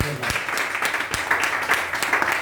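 Audience clapping at a leadership event in Amravati, Maharashtra: a dense, steady patter of many hands held at even loudness for about two seconds, with a bit of voice mixed in.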